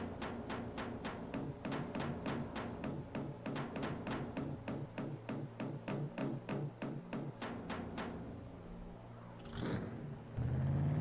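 Damaged race car engine in a racing video game revving in repeated sharp bursts with a rough, sputtering rhythm, followed by a whoosh and a lower rising roar near the end.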